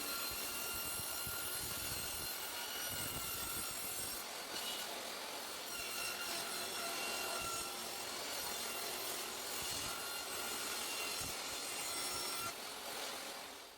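A continuous, raspy handsaw-like sawing through wood as wooden bedside-table drawers are trimmed down, going on without pause, fairly close and steady throughout.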